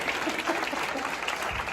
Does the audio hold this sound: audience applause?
yes